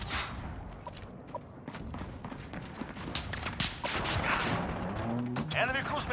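Explosive impacts from an enemy cruise missile strike in Call of Duty Modern Warfare (2019), a dense run of blasts and crashing thuds layered over gunfire and game radio callouts, loud and continuous throughout.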